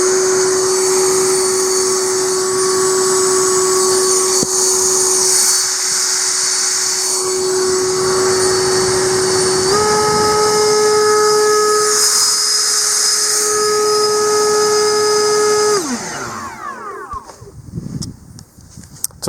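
An EGO LB6000 battery leaf blower runs steadily with a high whining motor and rushing air, stepping up in pitch partway through, then spinning down and cutting off.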